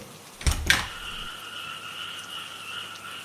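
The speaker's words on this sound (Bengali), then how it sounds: "তখন আবার ব্যাং ও ঝিঝি পোকার কনসার্ট শুনতে পেলাম" Frogs and crickets hold a steady night chorus outdoors, their sustained trilling drone beginning right after a couple of sharp knocks and continuing evenly at moderate distance.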